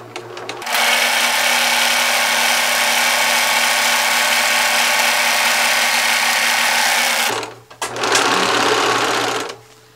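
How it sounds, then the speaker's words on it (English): An overlocker serger stitching chain-pieced fabric for a rice heating pad, running in a loud continuous whir for several seconds, pausing briefly, then starting again in a short second burst. "So both pieces will be chained together by this little thread that comes off the overlocker"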